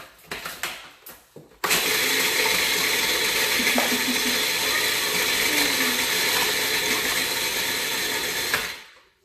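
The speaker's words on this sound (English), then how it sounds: "add your butter there and process it again" Food processor whirring as butter is worked into gluten-free chocolate creme sandwich cookie crumbs for a pie crust, a few short clattery pulses before a sudden loud, continuous motor roar with rattling crumbs that cuts off near the end.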